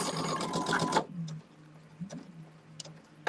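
A sewing machine stitches quilt blocks and labors over a thick seam, with a loud fast burst of needle clatter for about a second, then quiet except for a few faint ticks.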